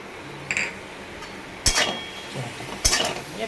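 Spoon stirring egg bhujia in a metal pan after chili powder, tomato sauce and peri peri masala go in, giving three sharp clinks and scrapes spaced about a second apart against quiet background.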